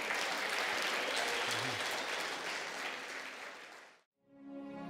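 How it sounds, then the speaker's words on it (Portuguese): A church audience applauds with sustained, dense clapping that fades gradually before cutting off abruptly, followed by a brief silence and then quiet music. "Vamos aplaudir a Jesus então."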